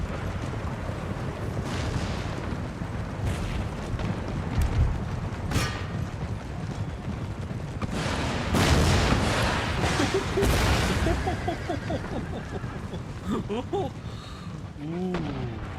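Cannon artillery booms in the Empire: Total War video game over a continuous rumbling battlefield din, with louder blasts in the middle and a voice talking throughout.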